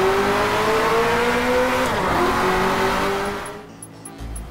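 A mid-engine V8 twin-turbo car in the DriveClub racing game drones at high revs under load, its pitch easing and dipping before the engine note drops away near the end, with faint tire noise.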